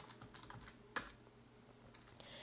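Keys tapped on a computer keyboard while a command is entered in a terminal, a quick irregular run of soft clicks with one sharper keystroke, close and faint, with no talking.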